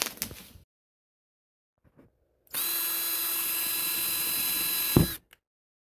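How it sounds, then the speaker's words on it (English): A power drill whirs loudly and steadily for about three seconds, preceded by a few faint knocks and handling sounds. "I'm going to go get the drill"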